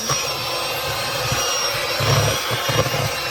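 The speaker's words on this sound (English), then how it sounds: "we're going to mix up the butter and make sure you mix it very, very well" Butter being mixed for a sweet potato pie gives a steady, close whirring drone with a low rumble underneath, holding evenly throughout and cutting off at the end.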